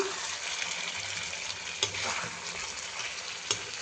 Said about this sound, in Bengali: রাখার পর পেঁয়াজটাকে একটু তেলের মধ্যে ভেজে তারপরে চিকেনটা দিয়ে দিচ্ছি।